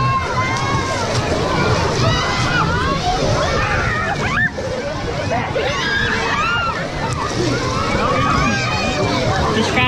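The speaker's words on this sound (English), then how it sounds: "The waves have started." Water sloshes in a busy water park wave pool as the waves start, a continuous splashing wash under excited crowd noise and nearby voices.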